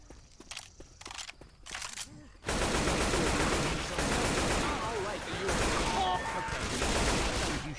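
Video game gunfire: a few sparse, separate shots at first, then a dense, sustained barrage of rapid automatic fire that stays loud and close, with people talking underneath.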